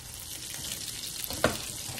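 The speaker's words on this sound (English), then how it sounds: "the sausage is cooking" Sausage frying in a pan gives off a faint, even hiss of sizzle, broken once by a brief clink of a utensil against the pan, with no voices.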